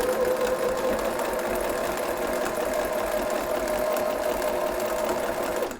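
A sewing machine runs steadily as it top stitches a fabric Christmas gift bag, its motor whirring in one continuous, close, even hum throughout.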